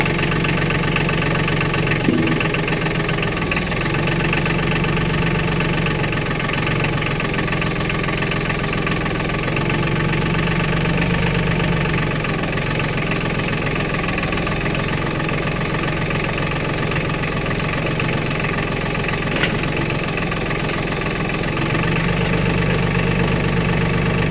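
A 2017 Mahindra 1526 tractor idles loud and close, a steady low diesel rumble with a slight rise in pitch partway through, no voices.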